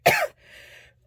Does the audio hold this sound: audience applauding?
no